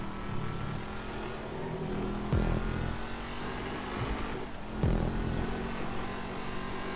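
Car engine in the video game GTA V during a stunt race, a steady droning hum with two short bursts of louder revving, no voices over it.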